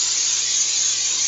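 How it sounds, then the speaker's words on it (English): Cooking spray hisses steadily from a can into a pan heating on high for sautéed asparagus, one continuous close spray with no pauses. "I'm going to go ahead and spray this"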